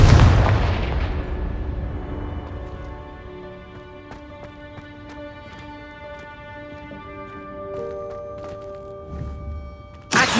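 Confringo blasting spells erupt in Hogwarts Legacy's Room of Requirement: a loud, close blast opens, then fades into a long ringing magical shimmer, and a second sharp burst hits right at the end. No voices.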